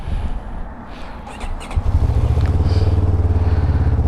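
A 2022 CFMOTO 700CL-X motorcycle engine starts with a few clicks, then settles into a loud, rapid, throbbing idle right up close.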